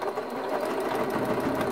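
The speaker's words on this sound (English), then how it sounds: "I'm going to just demonstrate right here how to stipple your quilt, or what we call stippling, free motion quilting, doing a stipple." A sewing machine runs steadily while free motion quilting a stipple pattern on a T-shirt quilt, a close, continuous fast whirring hum with no talk.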